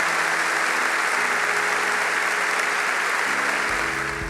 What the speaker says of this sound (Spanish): quiero que le brindemos un fuerte aplauso con mucho cariño para ella